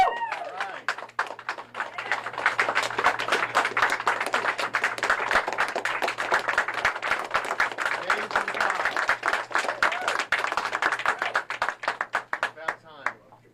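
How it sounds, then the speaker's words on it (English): A crowd at a press conference following the West Memphis Three Alford plea hearing breaks into sustained, dense clapping that swells and holds for several seconds before thinning out, with voices mixed in underneath. "I say we give these guys a round of applause"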